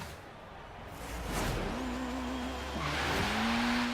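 A 2016 Honda Civic Type R rallycross build in Forza Horizon 3 revs hard from a launch, tires squealing with wheel spin as it grips and shifts through quick short gears, heard up close and fairly quiet.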